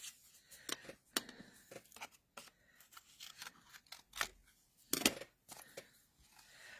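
Scissors rough-cutting card for handmade greeting cards. Irregular, crisp snips and sliding cuts sound close and quiet, with soft handling noise between them.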